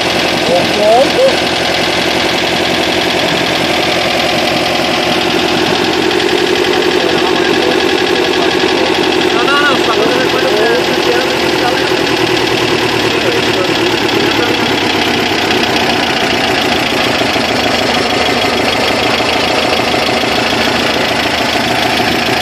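A VW Brasilia engine idles steadily while being tuned at a car event, a loud continuous rumbling drone with a slightly uneven knocking beat and no voices.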